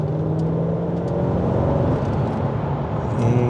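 A Mercedes-Benz E55 AMG engine pulls steadily under load in third gear, a continuous low rumbling drone with a slight rise in revs toward the end, no voices.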